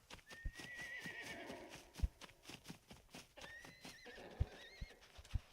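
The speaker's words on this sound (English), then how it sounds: "that's a fucking horse" A horse in the survival video game SCUM whinnies twice with long, wavering neighs. Clip-clop hoofbeats and sharp knocks are scattered through the clip, all fairly faint and close by.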